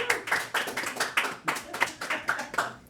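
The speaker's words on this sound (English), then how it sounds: "give a round of applause for Stu, please." A small group clapping for a presenter at a RuneScape game jam, a few pairs of hands giving quick, uneven claps that form a short, sparse round of applause lasting a few seconds.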